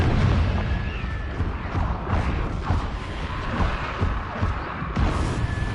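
A Confringo blasting curse explodes in the Hogwarts Legacy video game, giving loud, rumbling booms and crackling blasts that roll on for several seconds with almost no voice over them.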